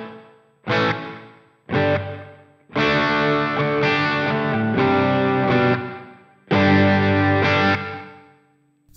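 Electric guitar through the room reverb on a Sonicake Matribox 2, with two short stabbed chords followed by longer sustained chords that ring out and decay with a short ambient tail, loud and with no voices.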